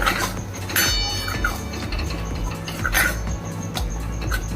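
A ginger-garlic masala for mutton rassa is stirred through oil in a pan. Repeated close metallic scrapes and clinks of a spoon against the pan sit over a low background sizzle, and no one speaks.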